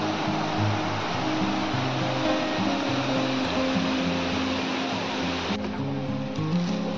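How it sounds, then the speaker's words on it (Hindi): Waterfall rushing as a broad, continuous roar of falling water, loud and steady throughout, with low rumbling tones mixed in and the noise thinning slightly near the end. "देखो एठी गोटे वाटरफॉल अच्छी"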